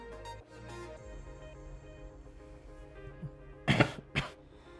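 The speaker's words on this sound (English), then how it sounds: "Sorry for all the coughing noises, hopefully they're not too bad." Two sharp, loud coughs burst out close by near the end, following a quieter stretch of low background sound.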